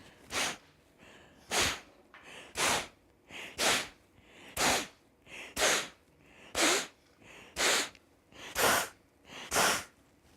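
Kapalabhati yoga breathing: about eleven sharp, forceful nasal exhales in a steady rhythm roughly one per second, loud and close with quiet pauses between, no talking.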